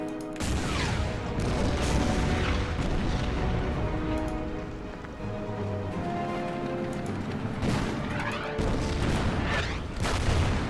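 A Stuka dive bomber attack and artillery fire in the WWII strategy game Order of Battle form a dense, continuous roar of booms and explosions, with repeated heavy blasts and rumbling impacts throughout, loud and without speech.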